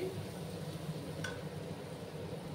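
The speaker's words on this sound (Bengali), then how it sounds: "এবার আমি আবার ভালো করে নাড়াচাড়া করে দিচ্ছি" Faint stirring and soft sizzling of spice paste frying in oil in a pan, a quiet, continuous scraping texture with a brief clink partway through.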